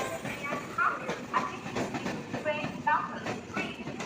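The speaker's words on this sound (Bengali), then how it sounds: "আর একটা ট্রেন ঢুকছে, এই দেখো।" A train pulls into a busy platform at Khardah railway station, its rolling rumble and clatter steady throughout, with people talking and moving nearby.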